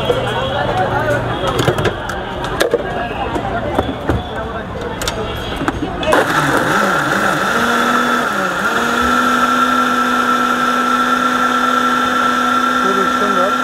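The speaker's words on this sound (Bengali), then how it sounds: "এটা একদিন ব্লেন্ডার করা হচ্ছে।" A street vendor's blender in Mirpur, Dhaka, mixes lemon mint juice with black salt, ice and water. Loud clatter and voices come first, then the motor settles into a steady, close, whining drone.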